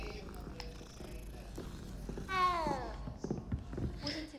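A cat purring in the video game Hogwarts Legacy, a brief, fairly close rumbling burst with a rising tonal edge that emerges from low game ambience and background speech, then fades.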